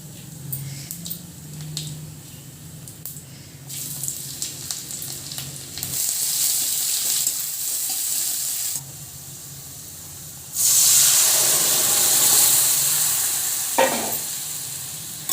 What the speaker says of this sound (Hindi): दाल को फ्राई करने के लिए जीरा, मिर्ची, लहसुन और प्याज है।